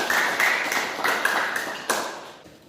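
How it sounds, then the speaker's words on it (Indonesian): Classroom of students applauding a classmate, a brief scatter of claps and taps that swells and then thins out, with a faint tone running underneath. "kita kasih aplaus dulu untuk Nadia Rizky"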